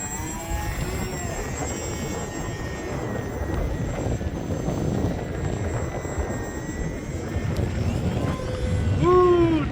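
A small HobbyZone Aeroscout RC airplane, an older model on a 3S 2200 battery, drones steadily through gusty wind outdoors, its motor whine rising and falling over heavy wind buffeting that swells toward the end.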